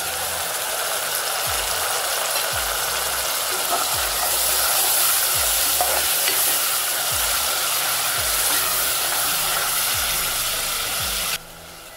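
Chopped tomatoes hitting softened fried onions in a hot pan give a steady, loud sizzle and hiss that holds for several seconds, with faint low thumps repeating underneath and the sound dropping slightly at the very end.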